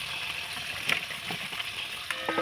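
Pumpkin greens fry in a pan with a soft, steady sizzle, broken by a few quiet scraping and knocking sounds as they are stirred.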